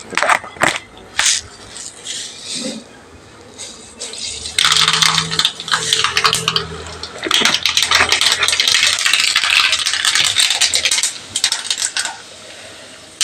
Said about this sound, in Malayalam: ഇതിൽ കടുക് വറുത്തിടാം അപ്പോൾ ഇത് വെളിച്ചെണ്ണ ആയി വന്നിട്ട് നമുക്ക് ഇതിലേക്ക് കടുക്